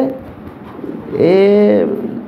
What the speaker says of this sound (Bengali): এখানে 1 পেয়ার কবুতর আছে, টপ কোয়ালিটি